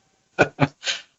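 A quick burst of sneezing, three sharp close bursts in rapid succession, loud against an otherwise silent background.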